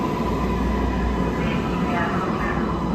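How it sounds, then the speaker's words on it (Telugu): A MARTA red line train in Atlanta rumbles into the station bound for the airport, a loud continuous low roar with steady mechanical hiss. A voice is mixed in underneath. "ట్రైన్ వస్తుంది, ఎయిర్పోర్ట్కి వెళ్తుంది, రెడ్ లైన్"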